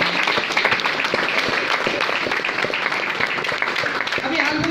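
Seminar audience clapping, a dense continuous patter of many hands, fairly loud and even, with some speech mixed in beneath it.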